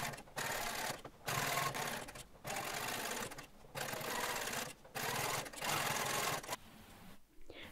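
A sewing machine stitches the pocket bags of a pair of jeans in several bursts of steady rapid whirring, each lasting about a second, separated by short pauses, close and alone without talk.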